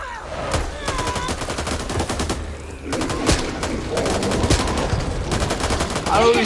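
A minigun in the Back 4 Blood video game fires in rapid bursts of dense, loud gunfire with short breaks between, mixed with other game effects and occasional chirping sounds.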